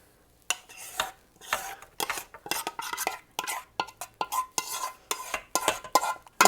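A spoon stirs pasta, sauce and a ricotta mixture together in a crockpot, producing a steady run of close, wet scraping strokes, loud and alone with no voices.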